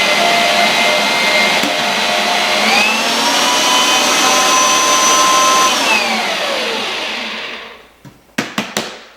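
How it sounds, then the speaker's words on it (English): A stand mixer whirs loudly and steadily while mixing dry biscuit ingredients, its motor pitch rising then settling before winding down, followed by a few sharp clanks at the end. "So what I'll do is put that in the mixer and I'll mix all that together."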